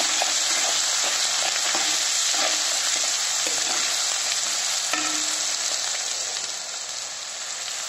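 Green chilli fish spices with black pepper fry loudly in hot oil while being stirred, a dense, close sizzle with occasional scraping strokes, easing slightly near the end.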